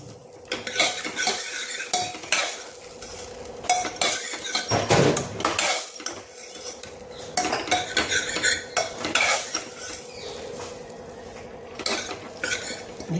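Jackfruit curry with fresh homemade cream being stirred in a pan over a low flame: a spoon scrapes and clinks against the metal in repeated, uneven strokes, close and fairly loud, with a soft sizzle beneath and no talking.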